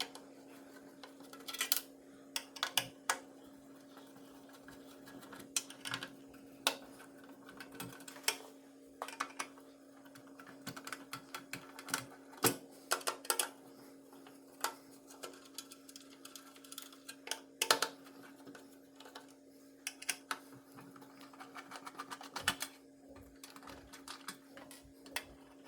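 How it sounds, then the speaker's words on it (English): Screws are backed out of a Nintendo NES console with a screwdriver, giving faint repeated ticks and small clicks over a steady low hum throughout. "you want to go ahead and just start taking out the screws that are around the vicinity of this"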